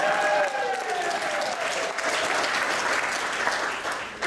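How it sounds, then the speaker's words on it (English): Wedding guests applaud steadily during a speech, a broad, even wash of clapping from a roomful of people, moderately loud and sustained throughout. "Well, you can clap."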